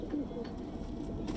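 Salara Teddy pigeons coo softly in a breeder's loft in Lahore, low murmuring calls repeating close by amid faint background voices.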